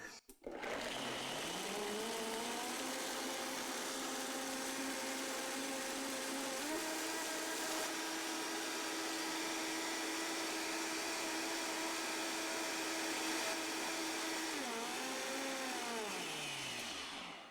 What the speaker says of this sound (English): So you want to blend it as high as you can on whatever blender you have.